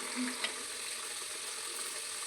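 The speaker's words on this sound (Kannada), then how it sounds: "ಎಣ್ಣೆ ಬಿಸಿ ಆಗಿದೆ ನಾನಿಲ್ಲಿ ಒಂದೊಂದೇ ಪಪ್ಸ್ನ ಹಾಕ್ಕೊತಾ ಇದ್ದೀನಿ" Egg puffs frying in hot oil in a small pan produce a faint, even sizzle that holds steady throughout, with one brief click near the start.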